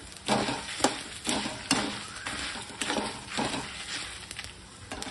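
Dried red chillies fry and sizzle in a pan while being stirred, with rhythmic scraping strokes every half second or so over a steady crackle, close and fairly loud, no voices.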